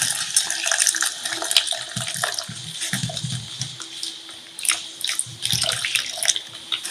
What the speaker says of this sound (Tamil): ஒரு 3 ஸ்பூன் அரைச்சிட்டு வந்த உளுந்த மாவை போட்டுட்டு கொஞ்சம் தண்ணி சேர்த்து கரைச்சிக்குவோம்.